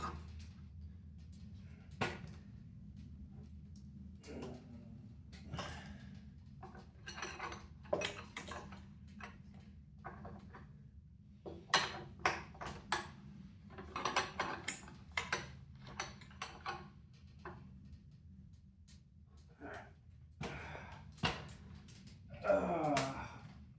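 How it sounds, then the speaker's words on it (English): A cheap torque wrench ratchets in quick, light clicks while tightening a hollow motor on an Extreme Bull Commander, the ticks coming in irregular bursts over a low steady hum. "I'm going to try to torque it down just a little bit more"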